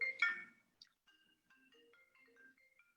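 A mobile phone rings with a short melodic ringtone in a quiet room: stepped tonal notes follow a brief louder burst at the start, and the tune plays softly and steadily alone, with no talk.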